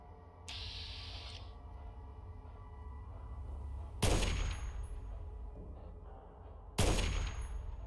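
Gunfire in the Fallout 3 video game, with two sharp, loud shots a few seconds apart over a steady background hum and a brief high whine early on.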